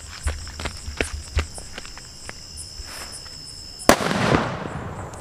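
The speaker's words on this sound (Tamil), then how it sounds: "இதான் 555 பாம் வெடிச்சு பார்க்கலாம்" A single sharp 555 firecracker bomb blast bangs loudly and rumbles off, after footsteps and crickets chirping in the quiet night.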